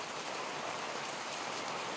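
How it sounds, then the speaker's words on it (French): Heavy rain streams down steadily in a Miao village in China, a dense unbroken hiss that fills the whole clip with no voices. "Et la pluie, qui ruisselle de toutes parts, semble exacerber cette nervosité."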